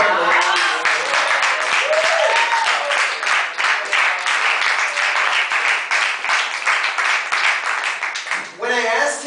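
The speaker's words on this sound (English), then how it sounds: "Another applause" Sustained audience applause at a talk-style event, many hands clapping in a steady dense rhythm for several seconds while voices murmur beneath it, then the clapping fades.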